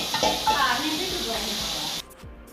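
Ginger garlic paste goes into a large pot of tomato rice for 100 people and sizzles at once, a bright, steady hiss of frying that runs for about two seconds, then cuts off, leaving quieter background sound.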